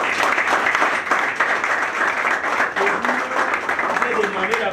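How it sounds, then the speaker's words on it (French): Applause from a crowd at an opposition political gathering, continuous dense clapping at steady loudness, with voices faintly mixed in. "Si on peut encore applaudir pour vous"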